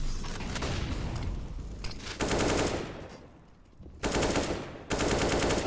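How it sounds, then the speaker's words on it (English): Rapid automatic gunfire in a multiplayer video game match, with dense sustained bursts broken by short pauses and a quieter stretch before two loud renewed volleys near the end. "Jarvis shooting the feet of Eris."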